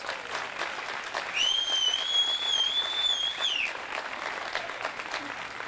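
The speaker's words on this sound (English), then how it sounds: "So our teachers, big round of applause really for our teachers." Audience applause honoring teachers at a retirement celebration for a school superintendent, steady sustained clapping from a sizable crowd, with a whistle cutting through above it partway.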